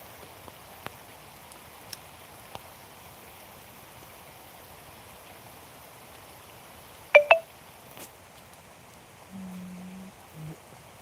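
Rain falls steadily outdoors in a village as a faint, even patter and hiss that runs throughout, broken by a few brief clicks and a short pair of electronic beeps near the end.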